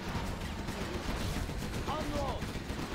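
A Gatling tank in the real-time strategy game Command & Conquer: Zero Hour fires a rapid, continuous stream of automatic gunfire, a dense steady rattle lasting the whole moment amid other battle effects.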